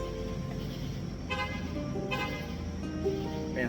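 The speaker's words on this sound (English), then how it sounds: "you gotta honk this horn" Two short car horn honks lock a car in a hotel parking lot in Gatlinburg, a moment apart over a steady low rumble of outdoor ambience.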